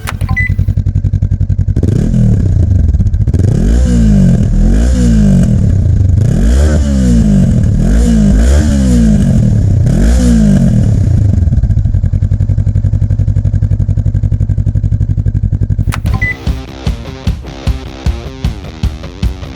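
A Honda CB500X motorcycle engine revs repeatedly in strong rising-and-falling bursts over a steady idle, then settles into a choppy, uneven idle.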